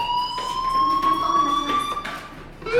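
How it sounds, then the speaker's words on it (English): An electronic fire alarm rings in the Life is Strange video game, a steady piercing tone that holds for nearly three seconds against faint background sounds, with brief wavers and a short rising chirp at the end. "Hey, do you hear that fire alarm?"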